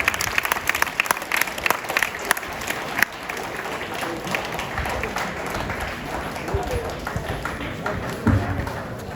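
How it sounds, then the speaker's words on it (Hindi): A school audience at an International Women's Day celebration claps to welcome a teacher to the stage. The applause is uneven and choppy, with crowd noise and some talk underneath. "बहुत जोरदार तालियों से स्वागत कीजिए उनका"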